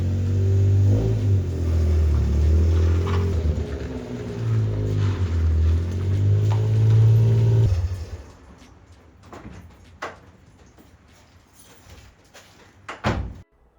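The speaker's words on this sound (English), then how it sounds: "Get the truck inside, get the gauges out" A truck engine rumbling loudly as it drives into a garage during heavy rain, a deep idling drone for about eight seconds, then cutting off, followed by clanks and a door slam.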